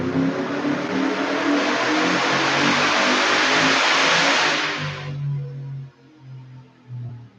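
A performance V8 engine on a dyno test setup with a tunnel ram intake revs loudly and steadily for about five seconds, then drops to a rough, lumpy idle with occasional blips.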